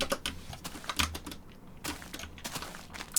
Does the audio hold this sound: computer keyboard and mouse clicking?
yes